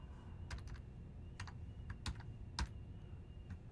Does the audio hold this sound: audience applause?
no